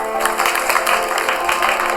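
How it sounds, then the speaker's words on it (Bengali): An audience claps loudly and continuously at a game-show-style contest, a dense steady burst of applause close by. "সবাই জোরে হাততালি দাও।"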